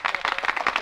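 Applause at a graduation ceremony in a radio drama, a steady patter of many hands clapping together in a dense, even spread, close and fairly loud.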